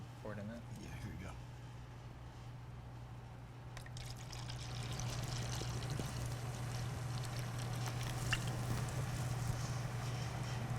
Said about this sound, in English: I'm gonna go ahead and pour it in that.